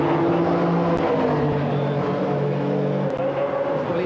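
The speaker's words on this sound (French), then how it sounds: "Freddy Loax, on le retrouve sur le circuit d'Assen en Hollande, où il partage le volant d'une Porsche 911 avec Jack Beutart." A rear-wheel-drive Porsche 911 race car circles the Assen circuit in the Netherlands. Its engine drones loud and close, with shifting harmonic tones as it holds speed, and there is no talking.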